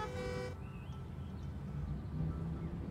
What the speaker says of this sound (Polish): I tu trąbią, bo ten stoi.